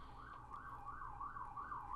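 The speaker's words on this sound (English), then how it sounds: "And a fire engine going by." A fire engine siren wails in a steady rising-and-falling cycle as the truck goes by some way off, faint and continuous, with no one talking.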